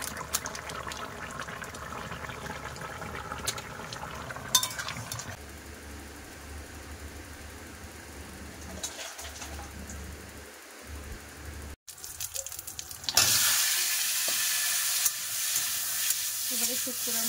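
Shukto simmering in a pan, with small pieces of fried fish stirred in: scraping and stirring at first, then a loud, steady sizzle that swells and carries to the end, close by.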